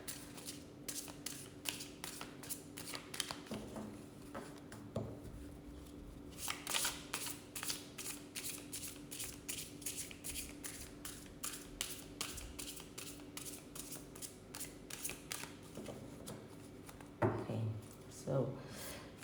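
Tarot cards are shuffled by hand in a long run of quick, crisp riffling bursts, repeating steadily and close up, with a low steady hum underneath.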